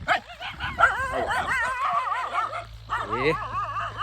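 A dog barks and yips repeatedly near its puppy on a farm field, close and agitated, with whimpering tones between barks over a low steady hum.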